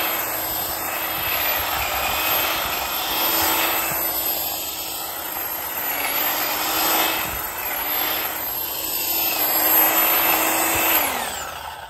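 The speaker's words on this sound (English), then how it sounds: "I can just plug a hedge trimmer directly into the power station and use it this way" An electric hedge trimmer powered by a portable power station buzzes steadily and continuously while cutting through bushes, a close, sustained motor whine with slight swells as the blades bite into the growth.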